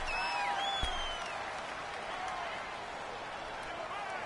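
Home stadium crowd roaring in an American football video game, Arizona Cardinals against Atlanta Falcons, a steady broad wash of cheering and noise throughout with a brief thump early on.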